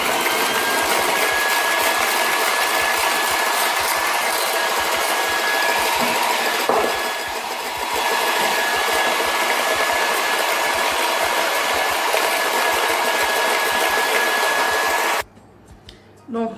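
Electric mixer whipping egg whites with sugar into a meringue for a chocolate Yule log, a loud continuous steady whine lasting about fifteen seconds before it cuts off abruptly.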